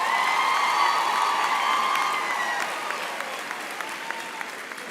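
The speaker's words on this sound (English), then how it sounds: "give a round of applause to your deans" Large university graduation ceremony audience applauds deans and lecturers, sustained dense clapping with faint cheers, gradually fading, while a tonal hum lingers early on.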